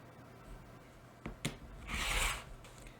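A ruler is set on sewn fabric strips and the edge is trimmed, giving a few soft taps and then a brief close scraping, rasping cut over a quiet room.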